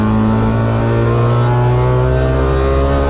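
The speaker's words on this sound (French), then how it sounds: "un karting qui gueule, qui crépite et qui fume" Trabant 601 RS rally car engine roars steadily and loudly at close range, a continuous droning buzz with crackling texture and no talk over it.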